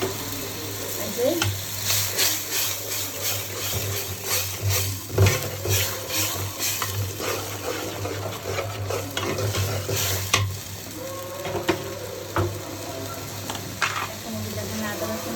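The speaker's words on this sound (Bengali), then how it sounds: "দেখেন আদা রসুন বাটা, আদা রসুন বাটা, সুন্দর করে কষানো।" Ginger-garlic paste with chili powder sizzles and fries in a pan while a spoon stirs and scrapes steadily, with occasional clinks of metal on the pot; the sound is close and continuous, and a voice talks in the background.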